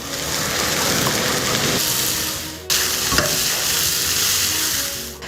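Rendang spices fry in a hot wok with a dense, steady sizzle and crackle, close and loud, stirred briefly partway through with no talking.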